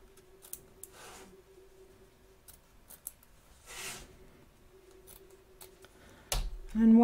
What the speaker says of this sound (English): we're just going to trim up around the edge of the stitch line again